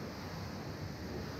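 High-pressure water spray washing a new Porsche 992 Carrera S makes a steady, close, continuous hiss that holds at an even level throughout.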